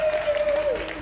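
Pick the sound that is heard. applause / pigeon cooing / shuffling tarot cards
applause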